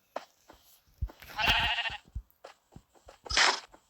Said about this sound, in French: j'ai commencé à faire un petit élevage de moutons